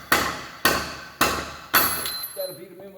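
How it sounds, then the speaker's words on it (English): Four sharp hammer blows driving metal brake spring retaining pins in at an even pace, each ringing briefly, followed by quieter clinks and a faint tonal ring. "Got to beat them in with a hammer."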